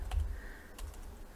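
A few quick keystrokes on a computer keyboard while a command is entered in VS Code, light clicks close by over a faint background hum, without speech.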